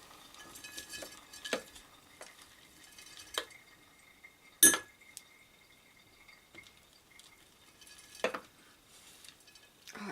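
A spoon scrapes and clinks against a bowl of raw apple crumble, with soft scrapes and several sharp taps spread unevenly, one louder clink near the middle, all close and quiet.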